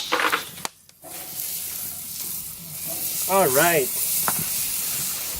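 Food frying in a little oil in a pan, a steady loud hiss and sizzle that runs throughout, with a brief spoken word and some clatter near the start.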